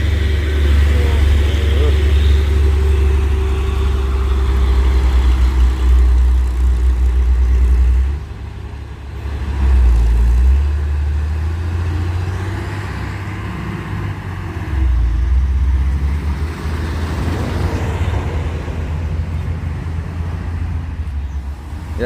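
An orange Fuso truck and a Hino truck labor uphill on a hillside road, a heavy diesel drone rumbling loud and steady throughout, swelling and easing as they climb, with someone talking over it.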